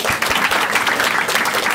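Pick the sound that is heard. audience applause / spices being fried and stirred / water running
audience applause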